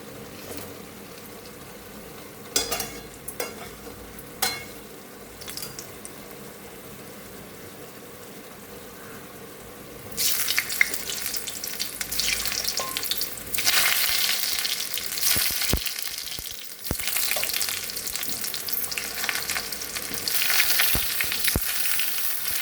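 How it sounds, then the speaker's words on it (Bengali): Potatoes for Bengali aloo kosha fry in a pan. After about ten seconds of quiet clinks and handling, a loud, continuous crackling sizzle swells up and carries on steadily with small pops. "ততক্ষণ আমি এখানে ওই দমের আলুগুলোকে ভেজে নেব"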